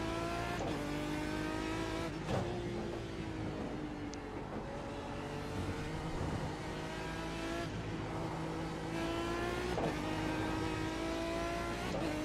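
An Aston Martin DBR9 GT1 race car in the iRacing simulator drones steadily at high revs, its engine pitch rising and dropping through gear changes, with a bit of wheel spin and faint tire squeal, continuous and up close.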